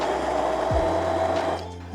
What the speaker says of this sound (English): we are just going to immersion blend this until it's really smooth